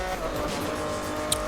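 Lamborghini in the racing game Need for Speed Most Wanted, its engine a steady loud drone with a brief sharp tire squeal near the end, no voices over it.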